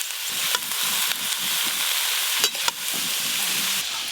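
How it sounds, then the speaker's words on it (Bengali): Potatoes and cabbage fry in mustard oil with turmeric for a vegetarian cabbage dish, giving a steady broadband sizzle with soft scraping stirs and a few sharper clinks of the utensil against the pan. "এবার আলু আর বাঁধাকপি একসঙ্গে একটু ভালো করে ভেজে নেবে।"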